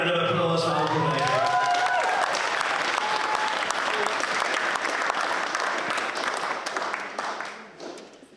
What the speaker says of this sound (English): Nice big round of applause for Uncle David.